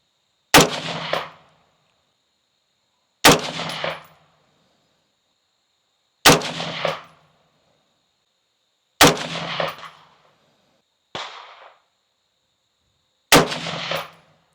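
Six sharp, loud Palmetto State Armory JAKL rifle shots fired at a center target, spaced roughly three seconds apart, each crack followed by a short decaying echo; one slightly softer report falls between the last two.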